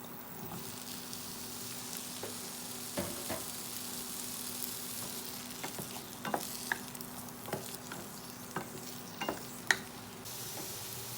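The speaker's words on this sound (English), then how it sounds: "Now I will add the potato. Also we'll cook for 2 to 3 minutes." Potato pieces sautéing in a curry pan for a drumstick and potato curry, a steady soft sizzle with scattered scraping stir clicks, fairly quiet and close, no talking.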